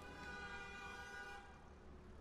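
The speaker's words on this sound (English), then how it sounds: "Who is honking outside?" A car horn honks outside in one sustained blare with a steady tonal buzz, slightly muffled as if heard from indoors, with no talking.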